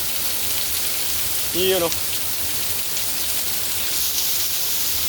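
Heavy rain pours steadily as a broad, even hiss close by, with a brief voice speaking partway through.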